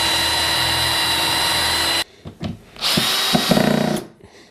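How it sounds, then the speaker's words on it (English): Power drill drives screws into an exterior plywood base of a chicken coop nest box, a loud steady whine for two seconds, then several short bursts with pauses between. "the bottom of the nest box is just a bit of exterior ply, which I'm just going to screw on the bottom"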